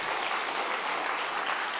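A church congregation at an evening revival service applauds in blessing, a dense, even wash of many hands clapping throughout, loud and sustained, with no voices standing out.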